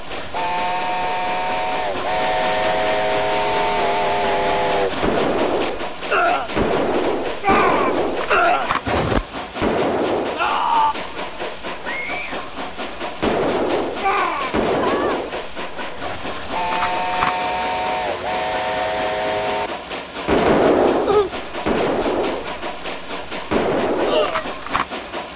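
Train in the Wii version of the Mad Dog II: The Lost Gold video game, with steady rolling rail noise and a long whistle-like tone running through the clip, mixed with bursts of game sound effects and shots.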